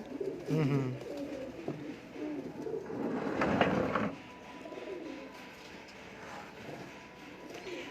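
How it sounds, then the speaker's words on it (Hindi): Teddy pigeons cooing in low, throaty phrases, with a louder burst of cooing and fluttering mid-clip among soft background noise. "इस आइज़ में टैडी कबूतर आपको बहुत रेयर नज़र आएंगे कहीं पे"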